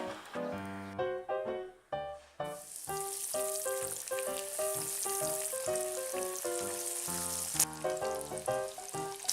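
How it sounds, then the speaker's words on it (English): Oil sizzles and crackles steadily as chicken cutlets deep fry, a dense bright hiss under soft background music. "Heat enough oil for deep frying."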